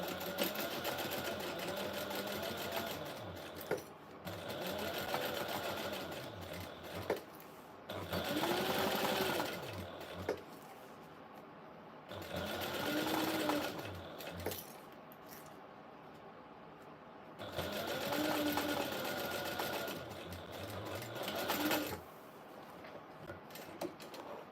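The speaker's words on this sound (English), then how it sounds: "So we're going to sew all these on at a 1/4 inch seam allowance." Sewing machine stitching quarter-inch seams on a clutch bag, running in several sustained bursts of steady whirring separated by short pauses, close and fairly loud with no talking.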